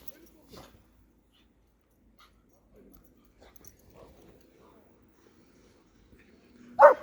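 Dogs romp through snow in Malatya. The stretch is mostly quiet, with faint scattered scuffs and soft sounds, then a sudden loud, whimper-like cry right at the end.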